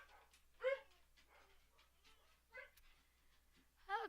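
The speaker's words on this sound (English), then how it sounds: "My dogs are barking because I think somebody's home." Dogs bark and whimper indoors at home, a few short faint yelps spaced apart over quiet room tone, the last bark slightly louder.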